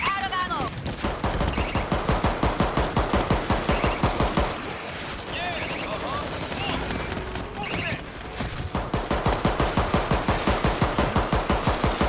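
Machine gun fire in the co-op zombie shooter World War Z Aftermath: long rapid bursts of automatic fire, loud and close, broken by a short pause in the middle, with players talking under the shooting.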